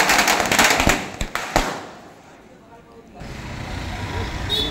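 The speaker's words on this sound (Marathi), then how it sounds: "फटाके फोडायला सुरुवात झालेली आहे।" Firecrackers bursting in Badlapur as locals celebrate in the street: a rapid cluster of sharp cracks and bangs in the first second and a half, then a dip into quieter ambient noise and a steady crowd-and-traffic murmur.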